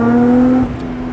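A mid-engine Japanese sports car with a swapped-in 3-litre V6 from a Camry holds a steady, loud, droning note close by, then drops off as the revs fall away.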